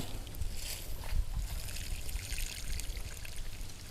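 Water is poured onto a bamboo cutting planted in a soil-filled nursery bag, a steady close splashing stream that runs continuously at moderate volume without talking.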